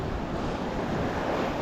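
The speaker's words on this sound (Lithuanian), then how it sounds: "Pradėjo kažkaip ir vėjas kilti iš tikrųjų." Wind rising over a Latvian seashore on a cool autumn day during shore fishing for flounder, blending with surf into a steady, unbroken broadband roar with no voices.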